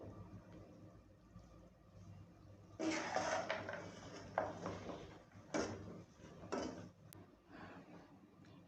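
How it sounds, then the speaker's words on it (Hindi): Almonds and pistachios stirred in a cooking pan: quiet, intermittent scraping and clattering strokes of a spoon against metal, several bursts spaced apart over a faint room hum, with no talking. "अब इनको मैं अच्छी तरह से मिक्स कर लूँगी"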